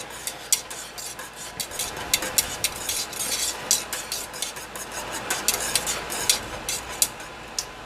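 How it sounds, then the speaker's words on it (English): A spoon scrapes and clinks repeatedly against a big pot of boiling passion fruit and dragonfruit jelly, in steady, close strokes over a low bubbling hum. "So we're just going to continue to stir this until the bubbles go down."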